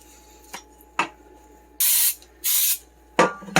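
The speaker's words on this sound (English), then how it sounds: "just line the bottom of it with some cooking spray" Several short bursts of cooking spray hiss into a cake pan, two longer sprays in the middle flanked by brief spritzes, close up with no talking.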